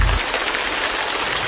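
Steady rain falls in a continuous, even hiss of drops hitting a surface. It stays loud and close throughout, with a brief low rumble at the very start and no voices.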